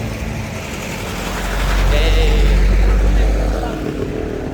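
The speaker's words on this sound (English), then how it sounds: "the noise is very loud, the cars and the whatnot" Loud, steady roar of nearby road traffic, swelling as a vehicle passes close by midway, with a brief spoken word at the start.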